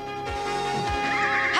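A winged horse in a He-Man cartoon gives a loud, bright whinny that wavers and rises to the end of a short burst, set against a sustained musical score.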